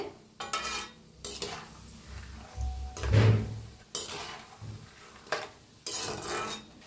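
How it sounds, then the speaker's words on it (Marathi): Peanuts frying in a pan of hot oil while making homemade masala sev, heard as a soft continuous sizzle broken by scraping and clinking of a stirring utensil against the pan, close and moderately quiet with no talk. "आता तेल गरम आहे तर त्याच्यातच आपण शेंगदाण तळून घेऊया"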